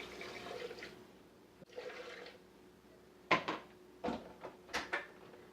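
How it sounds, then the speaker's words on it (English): Water splashes and pours into a blender in a few short bursts, with soft thuds of blueberries dropped in, close by and fairly quiet. "take the blueberries, dump them in there, and add the water"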